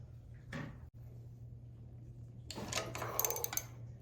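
Metallic clanks and ratcheting clicks as a wrench works on the carburetor choke of a lawn tractor, one short knock early, then a cluster of sharp rattling clinks near the end.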